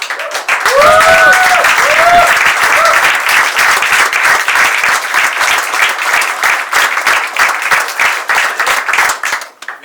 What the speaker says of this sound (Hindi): मेरे तरफ से मेरे सभी एक्टर्स के लिए एक जोरदार ताली।